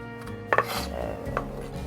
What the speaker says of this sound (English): we're going to cut a small onion, and we're going to dice it up really fine